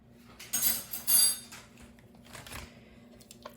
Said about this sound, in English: And then just mix it really well again.